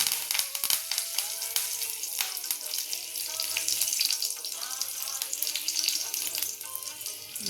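Curry leaves dropped into hot oil in a pan, giving a bright continuous crackling sizzle with popping spatters throughout, close and steady at moderate volume.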